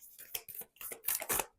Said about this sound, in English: I love a good shuffle.